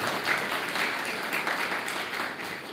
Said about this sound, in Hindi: तो अपने लिए फिर से तालियां बजाएंगे